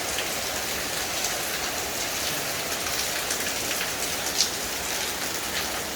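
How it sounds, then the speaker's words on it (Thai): Steady, dense rain pouring down without a break, a constant hiss with occasional louder drops; no voices. "ฝนตก"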